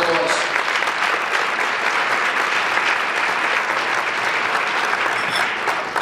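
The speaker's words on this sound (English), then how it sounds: "Let's give the Wilsons a huge round of applause." An audience gives the Wilson family a loud, sustained round of clapping at a legends night gathering, dense and steady throughout and easing off only slightly at the end.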